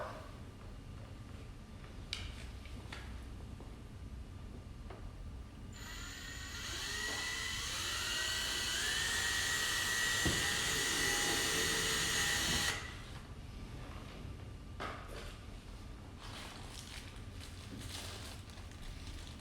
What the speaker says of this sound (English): I'm gonna drill the car.